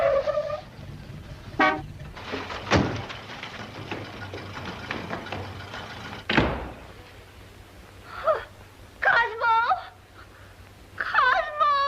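A 1940s car waits outside with its horn honking, a few short toots clustered near the end after a thud like a door and other scattered knocks, moderately distant with no talk.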